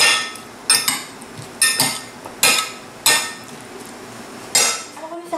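Salad vegetables are tossed with a shallot vinaigrette sharpened with mustard in a dish, with utensils clinking against it in several distinct, fairly loud knocks over a soft background.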